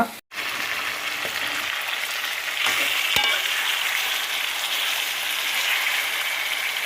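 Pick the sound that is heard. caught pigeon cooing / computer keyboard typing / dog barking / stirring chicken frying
stirring chicken frying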